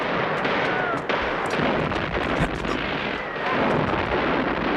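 Dense battle gunfire from an old 1939 war film, with rapid repeated shots and blasts crackling over a constant loud roar throughout.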